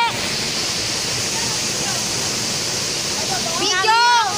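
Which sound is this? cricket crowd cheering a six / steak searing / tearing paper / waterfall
waterfall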